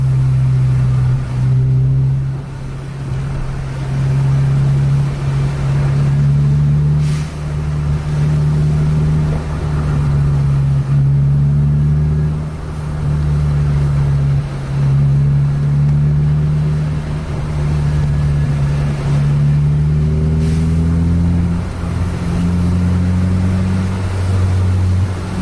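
A bus speeds along a slick, rain-wet road while overtaking private cars, its engine droning loud and steady with rising and falling revs and a constant road roar.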